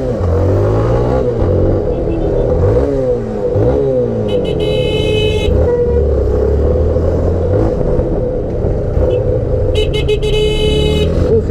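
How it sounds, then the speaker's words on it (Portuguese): Loud, busy street traffic with engines running and revving, and a car horn honking in short bursts a couple of times over the steady roar. "Buzina, caralho."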